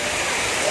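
Waterfall on a hiking trail with a swimming area below: a continuous broadband rush of falling water, steady and fairly loud, with no clear speech over it.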